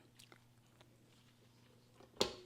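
Someone tastes orange bundt cake batter sweetened with honey, making faint, soft, wet chewing and mouth sounds in a quiet room, with one sharper smacking bite near the end.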